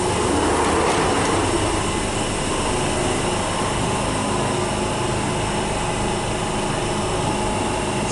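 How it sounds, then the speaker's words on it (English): London Underground train departing a platform at Bank station, a loud continuous rumble and whine of motors and wheels filling the space, steady throughout. "this train is currently departing on the other"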